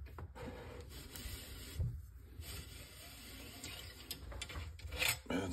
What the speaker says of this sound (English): let's get our ramrod out of there first